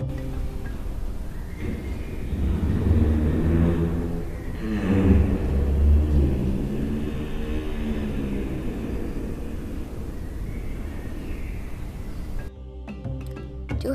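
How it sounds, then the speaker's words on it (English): Simulated okapi infrasonic call shifted up into hearing range: a low, rumbling, breathy groaning drone with a few swelling pulses, steady throughout, ending with a brief crackling burst, no voices. "We cannot hear okapis' noises because they are infrasonic."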